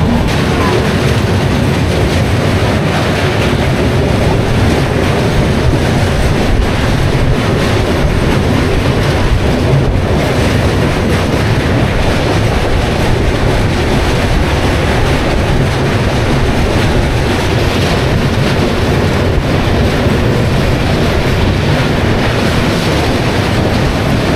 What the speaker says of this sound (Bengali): আমাদের ট্রেন এখন ক্রস করছে কোলাঘাট স্টেশন।